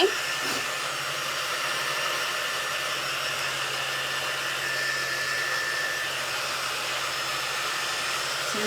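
Heat tool blowing steadily to heat-set fuzzy craft embellishments, a continuous close whooshing hiss with no change for the whole stretch.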